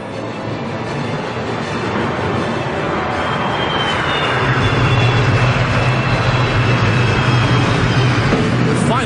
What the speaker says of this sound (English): Presenting the F-15